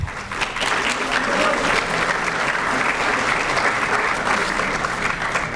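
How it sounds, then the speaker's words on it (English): Audience applause fills a high school fall sports awards ceremony in New Egypt in 2018, a dense, steady clapping that stays loud and even throughout, with no talk over it. "This group deserves an additional round of applause for their boundless support for New Egypt's athletic programs."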